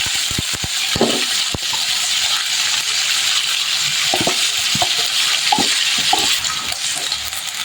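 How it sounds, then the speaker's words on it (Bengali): Onion paste hits hot oil in a wok and sizzles steadily and loudly, with scattered sharp pops and spoon clicks over the continuous fry. It is being cooked for a rohu fish curry with jackfruit seeds, and no one speaks. "তেল আমার গরম হয়ে গিয়েছে এখন আমি পরিমাণ মতো পেঁয়াজ বাটা দিয়ে দিলাম"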